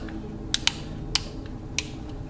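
Mounting screws are tightened during a model build, giving a few sharp close clicks and ratcheting ticks, four distinct snaps spaced over a couple of seconds above a faint hum.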